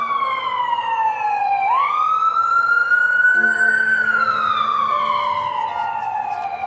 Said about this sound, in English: I'll wait for this ambulance.